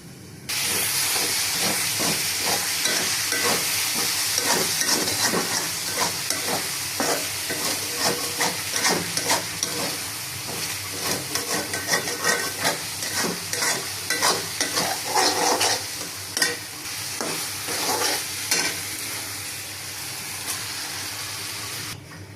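Fish curry simmering and sizzling in a pan, with a loud, dense hiss and crackle that holds steady throughout and is flecked with rapid spattering pops.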